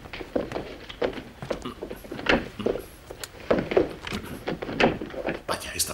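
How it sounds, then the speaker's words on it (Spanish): A stuck door being pushed and rattled, giving a series of irregular knocking thuds and jolts, fairly close and loud, with no speech over it. "Esta puerta está atascada."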